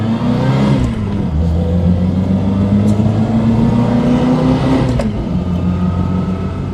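A Reliant Fox small car accelerating downhill on a road, a steady close engine drone rising gently in pitch with a brief shift midway, continuous and fairly loud throughout.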